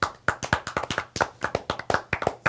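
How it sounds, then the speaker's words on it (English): An audience claps for a guest on a talk show, a steady run of sharp, close hand claps with no talk over it. "Make some noise for SoSoon"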